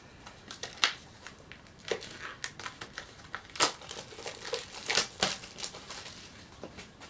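Plastic shrink-wrap being torn open from a packaged manga volume: a long run of crisp crinkling and crackling bursts at close range, irregular and fairly quiet, with no talking.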